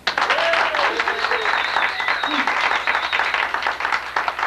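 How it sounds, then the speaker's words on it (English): A room full of people breaks into loud, dense applause, the clapping steady and close for several seconds, with a few voices and whistles mixed into the crowd. "Let's have another round of applause for Ted Gnarly."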